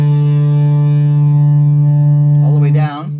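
Electric guitar played through an AliExpress Frenzy fuzz pedal, one loud sustained distorted note ringing steadily for nearly three seconds before being cut off by a brief scrape.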